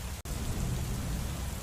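Steady rain falls on a rainy night, a dense continuous hiss with a low rumble, close and even throughout, broken only by a tiny edit gap near the start, with no talk.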